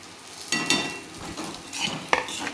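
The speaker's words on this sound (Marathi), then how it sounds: "आता सगळे परतून घेते" Stuffed bitter gourd stir-fried in a pan with peanut chutney, giving a steady soft sizzle broken by a few scraping spatula strokes and clinks.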